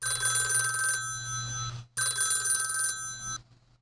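A telephone rings twice with a bright electronic trill, each ring about two seconds long and separated by a short gap, in a Star Trek: The Next Generation episode.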